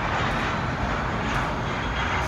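An airplane at an airport, heard from a lounge terrace, produces a loud, continuous broadband engine roar that holds steady throughout, with no voices.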